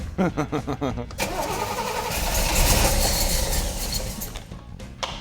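A 396 big block V8 in a 1970 Camaro RS/SS cranks with a quick burst of rhythmic starter pulses, then catches and roars into a loud, steady rumble that gradually settles, close by.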